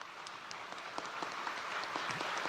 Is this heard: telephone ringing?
no